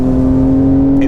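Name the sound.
Porsche 992 911 flat-six engine revving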